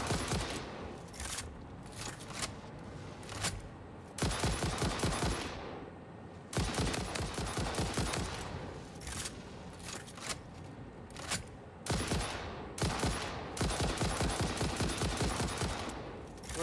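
Rapid bursts of automatic gunfire from the video game Satisfactory, loud and close, firing in long rattling volleys broken by short pauses, with no talking.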